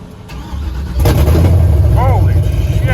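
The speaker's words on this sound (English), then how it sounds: "Let's go plug the fuel pump in and see if it fires. All right, first start attempt." An LS-swapped Chevrolet C10 truck engine cranks and fires on its first start, then settles into a loud, close rumble with revving while voices exclaim over it.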